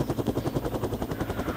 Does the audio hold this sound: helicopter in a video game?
yes